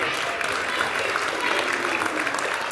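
A church congregation at a Sunday service claps in a continuous, dense round of applause, steady and fairly close, filling the room throughout.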